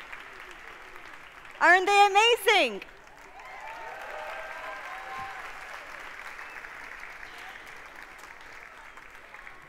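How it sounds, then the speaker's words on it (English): Audience applause at a live concert at Dubai Opera, a broad wash of clapping that rises after a brief loud spoken exclamation and continues steadily at moderate level to the end. "They really deserve a big round of applause for their hard work and dedication."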